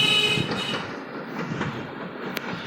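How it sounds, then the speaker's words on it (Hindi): Allama Iqbal Express rolling through a railway station in Pakistan, a steady rumble of passing carriages with clattering wheels and a brief metallic squeal, fairly loud and continuous with no talking. "ये थी 9 अप इलामा इकबाल एक्सप्रेस, जो कि अपने टाइम पर कोर्ट मोल्शन रेलवे स्टेशन को क्रॉस कर गई"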